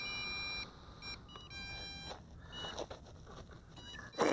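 Bright electronic beeps from an MJX Bugs 6 quadcopter repeat in short tones over a low background hum, followed by a sudden louder burst of noise at the end.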